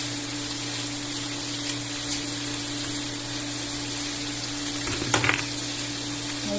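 Garlic, onion and vegetables sauté in a pan with a steady, even sizzle that holds throughout, broken only by a short clatter near the end.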